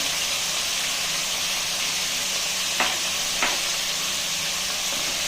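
Green chicken masala fries in a pan with a constant bright sizzle while being stirred, and two brief scraping clicks of the spoon cut through near the end.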